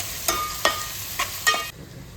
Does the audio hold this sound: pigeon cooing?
no